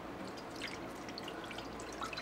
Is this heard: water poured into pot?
yes